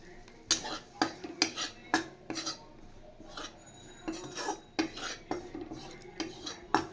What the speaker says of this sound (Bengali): প্রথমে আমি এই বেসনটা একটু ভালো করে ফ্রাই করে নেব।